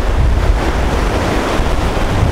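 A river at Millstream Gardens rushes in a steady, loud, broadband wash, with gusty wind buffeting the microphone throughout and no voices.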